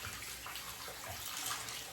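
Hot water runs steadily from a tap in a home bathroom, a constant close hiss and splash with no speech.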